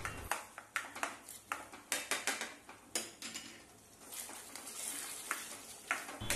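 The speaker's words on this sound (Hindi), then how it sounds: "और इस दोनों चीज़ों को मिक्स कीजिए और अब 10 से 1 सेकेंड और पकने दीजिए" Sliced capsicum and onions frying in a pan are stirred with repeated scraping clacks of a spatula over a soft sizzle, rhythmic and close.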